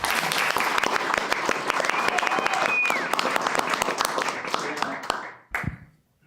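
Applause fills a council meeting chamber, a dense round of clapping from many hands that holds steady, then fades and stops.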